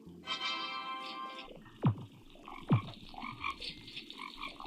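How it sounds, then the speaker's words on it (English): In the Bee Swarm Simulator video game, a frog lets out two distinct deep croaks about a second apart over a busy game soundscape with a sustained tonal sound at the start. "I hear a frog"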